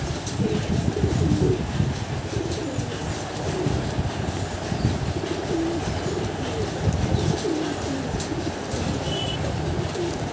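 Murshidabadi Giribaz pigeons cooing close by in low, repeated burbling calls, set against a loud, constant rumbling background noise.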